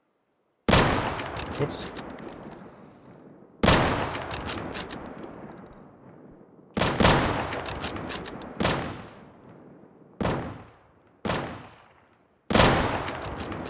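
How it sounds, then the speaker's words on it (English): Shotgun blasts in the survival video game Deadside, seven loud, sharp booms spaced unevenly over about thirteen seconds, each trailing off in a long echoing decay, with a brief spoken exclamation between shots. "they're shooting me with shotguns"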